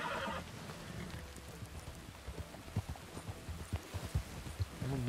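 An Arabian horse gallops in Red Dead Redemption 2, with rhythmic hoofbeats gradually getting louder and a brief whinny at the start, set against soft outdoor ambience and some talk.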